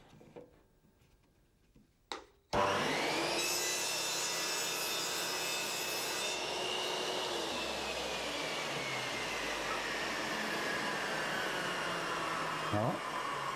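A saw on a Triton Workcentre cuts a compound mitre through wood, with a sharp start followed by a steady, loud whine and cutting roar that holds for about ten seconds before a brief change near the end.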